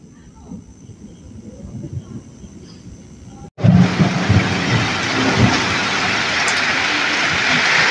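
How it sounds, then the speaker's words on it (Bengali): Heavy rain at night begins suddenly after a quieter stretch with insect chirping, then a dense, steady downpour roars loudly for several seconds, with no distinct thunder clap. "তাহলে বুঝতে পারছেন ভালোই জল হচ্ছে।"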